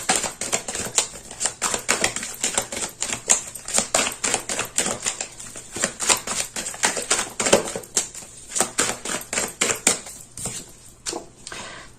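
Tarot cards handled during a reading, with a dense run of crisp rapid clicking and shuffling taps close by that continues for the whole stretch.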